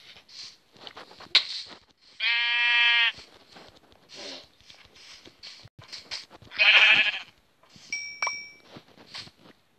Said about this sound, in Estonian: Ma kuulen lammast, aga...